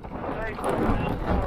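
Strong outdoor wind near a blocked storm drain, a continuous rough rumbling hiss buffeting the microphone at moderate level.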